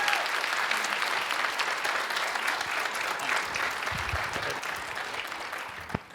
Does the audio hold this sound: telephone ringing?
no